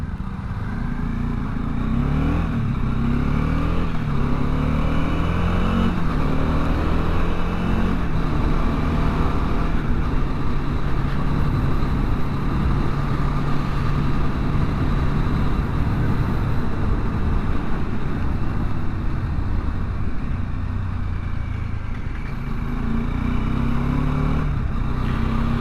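Dominar 400 motorcycle engine running steadily and loudly up close, a continuous low throbbing drone with shifting tone through the whole stretch and no talk over it.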